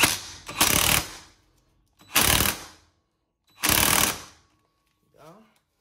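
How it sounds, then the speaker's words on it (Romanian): Three long bursts of ratchet clicking at close range as a nut is tightened on the transmission cover of a GY6 Chinese scooter, each burst about a second long with pauses between, followed by a brief metallic scrape at the end. "Apoi piulița, înfiletăm la mână întotdeauna înainte să strângem la cuplu. Da? Acum o strângem."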